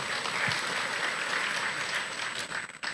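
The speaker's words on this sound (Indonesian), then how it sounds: "berikan tepuk tangan yang terbaik" Steady applause from a church congregation at an Indonesian Christmas service fills the room, dense clapping holding evenly for a few seconds.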